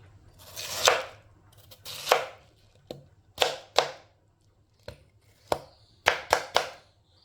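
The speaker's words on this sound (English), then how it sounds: "I'm gonna just go right in and just dice him up right about now" Yellow yam diced with a knife on a cutting board for Jamaican spicy chicken soup, sharp separate chops in irregular bursts, close and clear against a quiet kitchen with no talking.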